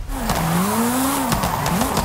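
Wheels spin and skid on a car in Forza Horizon 5, a loud continuous engine whine rising and falling over about two seconds with scrubbing tire noise and gear-like pitch swoops.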